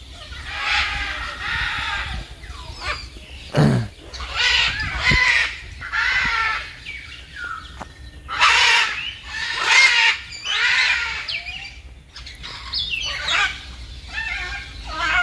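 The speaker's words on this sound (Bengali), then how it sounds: "তো গাইস ম্যাকোয়া পাখিগুলো একবার দেখো, বিশাল বড় বড় পাখিগুলো" Large macaw parrots at a zoo picnic spot in Uluberia give repeated loud, harsh squawks in bursts, close by, with brief gaps and a faint hum of people in the background.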